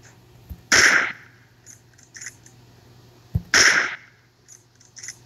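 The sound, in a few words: gunshots in PUBG Mobile video game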